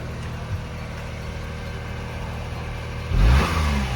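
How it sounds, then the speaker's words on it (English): Exhaust of a small Kei car at an idle hum, then a short sharp rev near the end that swells louder before settling back down. "let me hear a little exhaust"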